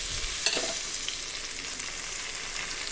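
Sliced ripe tomatoes drop into onions sautéing in a pan, setting off a loud, steady frying sizzle with a brief clatter of pieces landing early on.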